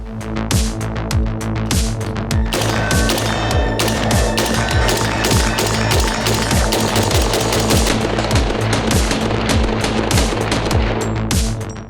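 Rapid shots from a Fostech AR-15 rifle with a 16-inch barrel fire in quick succession, sharp and loud, nearly continuous bursts echoing throughout with little pause.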